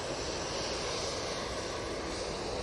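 Emirates airliner at Manchester Airport, a steady broadband engine roar filling the short stretch at close range, loud and unbroken with no voices over it.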